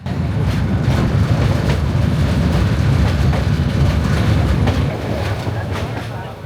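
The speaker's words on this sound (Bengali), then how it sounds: "কর্ণফুলী নদীর উপর নির্মিত সেতু পার হয়ে গ্রাম্য পথ দিয়ে ধীর গতিতে চলছে আমাদের ট্রেন" The Parjotak Express train rolls slowly over the Kalurghat road-and-rail bridge across the Karnaphuli river, a loud, close, continuous rumble with regular clickety-clack beats that eases slightly near the end.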